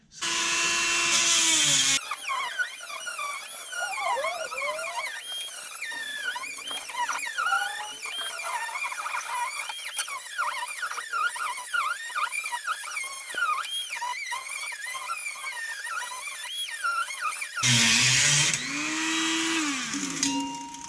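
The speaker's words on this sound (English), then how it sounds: "I got my Dremel and I got my grinding stone on here, and grind this down here a little bit" A Dremel fitted with a grinding stone grinds down a part on a 2003 Murray riding mower. It is a loud, steady high-pitched whine with a squealing, warbling pitch as the stone bites the metal, and it runs for about fifteen seconds before stopping.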